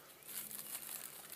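Crinkling plastic painter's tarp handled in the woods, a steady close rustle with soft crackles lasting throughout, quiet and with no voices.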